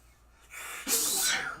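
A single loud, close sneeze, a breathy intake followed by a sharp burst, heard during a Madden football game session.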